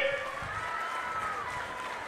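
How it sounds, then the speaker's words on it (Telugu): Applause rises from a large crowd at an Andhra Pradesh political rally addressed by Chief Minister Chandrababu Naidu, a fairly faint, even rush of many hands clapping at a distance with no single claps standing out. "ఇచ్చుంటే గట్టిగా చప్పట్లు కూడా చెప్పండి"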